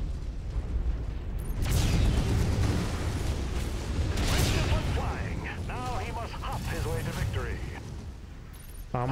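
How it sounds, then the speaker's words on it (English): Ammunition explodes in the MechWarrior video game with heavy booming blasts and rumbling detonations. A voice talks over the later part of the blasts. "Ammo explosion."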